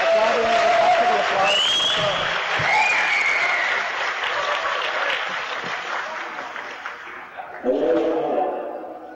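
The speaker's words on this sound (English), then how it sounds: "they're applauding" Sustained applause from a large crowd with some cheering and murmuring, fading a little before a brief swell near the end.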